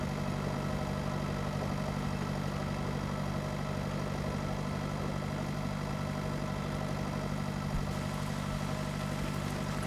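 A tractor engine idles steadily in the farming simulator Pure Farming 2018, a constant low mechanical drone with no change in pace and no other sounds over it.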